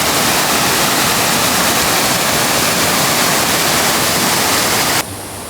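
Water in a mountain valley stream rushes loud and steady as dense, continuous broadband noise, close by and unbroken for several seconds before dropping suddenly at the end, with no talking.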